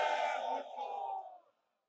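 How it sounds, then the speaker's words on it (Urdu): A large crowd at a political rally in Peshawar answers with a loud chanted slogan, two roaring surges of many voices that die away quickly into silence. "نعرے بھٹو"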